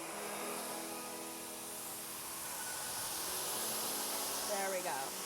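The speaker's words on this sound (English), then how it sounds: "Let's try the highest blow dryer because I think that might make a difference." A T3 Aire 360 hair dryer runs on its highest setting, giving a steady, fairly quiet whooshing hiss of blown air that continues evenly throughout with a faint sweep near the end.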